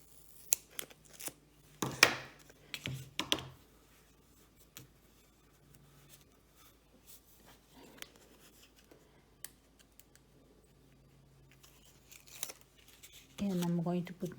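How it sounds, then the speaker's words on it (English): Packing tape torn and pressed down during a paper-craft mini album project, with brief scratchy rips and taps close up, a longer steady stretch at the end, and a voice speaking quietly between. "Okay, I'm going to use this tape."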